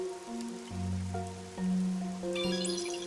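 Steady rain falls in the video game Master Detective Archives: Rain Code, a continuous hiss under layered tonal game music, with a brighter chime-like flourish near the end.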